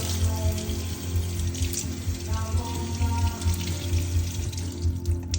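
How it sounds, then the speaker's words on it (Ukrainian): Warm tap water runs steadily onto a vinyl record clamped for cleaning at home, a continuous close splashing hiss with no speech. "Змочуємо її теплою водою."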